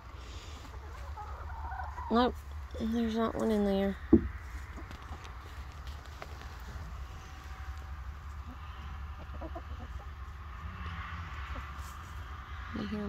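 Hens cluck and chatter nearby in short bursts, with a brief spoken remark mixed in, then quieter farmyard murmurs continue.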